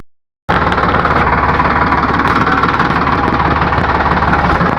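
A tractor engine runs loud and close after a brief silent start, a steady rough chugging idle with constant vibration and no pauses.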